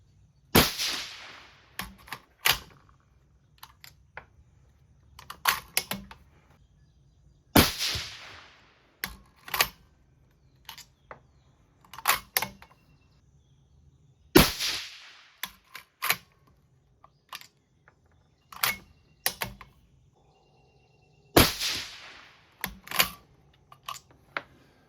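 Sharp shots from a 22 ARC rifle loaded with 80 grain full bore bullets, four main blasts spaced several seconds apart, each followed by smaller clicks and clatter, outdoors with a low steady hum beneath.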